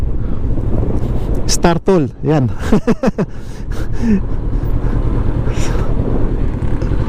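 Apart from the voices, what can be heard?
strong wind at Mount Makiling blowing into microphone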